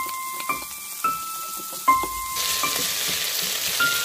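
Potatoes tipped into a pan with crunchy garlic and onion, a few sharp clatters and clinks followed by a steady hiss of frying that swells as they hit the hot oil, close with no talk.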